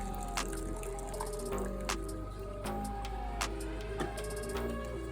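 Liquid shoe dye is shaken and poured into a container for dyeing Nike Vapor Max Plus sneakers, giving a steady close trickling pour with scattered drips and splashes.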